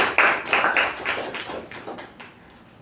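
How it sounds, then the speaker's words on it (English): A small club audience at a Toastmasters meeting claps for its secretary, a brief burst of uneven clapping that quickly thins out and fades. "Let's give a huge round of applause to our secretary."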